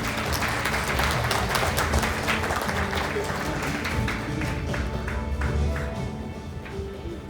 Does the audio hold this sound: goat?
no